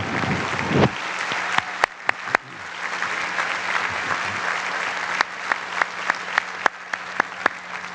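Warm, steady round of applause from a university graduate commencement audience honoring special guests, a dense clapping crowd running the whole stretch with a few sharper claps and knocks standing out near the microphone.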